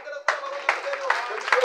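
Four sharp, evenly spaced claps ring out over a sustained tone and a voice that keeps speaking through them.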